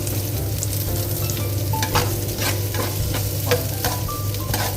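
Onions sauté in a pan, a steady close sizzle with intermittent scraping stirs of a utensil against the pan, no talk.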